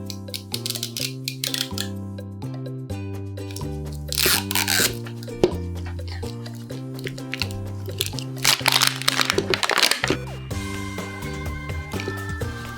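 Crinkling and tearing of L.O.L. Surprise doll toy packaging comes in bursts of crackly plastic and paper noise over steady background music, with a few louder rips near the middle.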